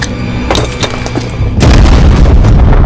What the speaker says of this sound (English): he pulled the pins on 2 grenades. The explosion consumed him and the aliens around him